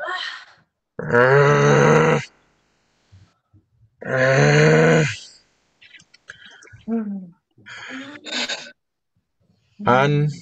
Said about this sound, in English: some sounds are going to start coming out your grunts